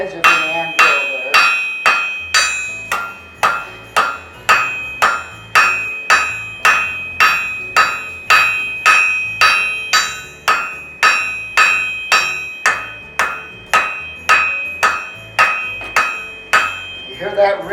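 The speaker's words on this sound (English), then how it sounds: "That's called the song of the anvil, the ring of the anvil." A blacksmith's hammer strikes the edge of an anvil while thinning an ornament, about two blows per second in a steady, loud rhythm, each hit ringing brightly before the next.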